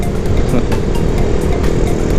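A motorcycle engine runs steadily and close by, its continuous low drone staying fairly loud throughout with no voices over it.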